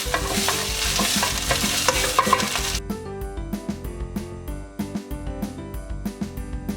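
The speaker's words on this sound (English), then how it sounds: "Give it a mix." White potato palya stirred in a frying pan: a dense sizzle first, then a run of rhythmic spatula scrapes and light clinks against the pan, close and fairly loud with no voices.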